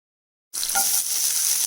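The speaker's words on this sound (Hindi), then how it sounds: "तो सबसे पहले हम इसमें हरी मिर्च डाल देते हैं" After a brief silence, two green chillies hit hot mustard oil and burst into a loud, bright sizzle that holds steady.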